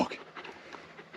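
A clingy dog pants close by at an outdoor farm road repair, a quick, soft, rhythmic series of breathy huffs over a quiet background.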